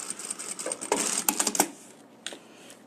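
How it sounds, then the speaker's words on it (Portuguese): A sewing machine stitches along the sides of a leather wallet in quick, uneven bursts of rapid needle clatter, close and clear, ending with a short pause and a final stitch. "E bater uma costurinha aqui, prendendo as laterais, para ele não ficar escapulindo."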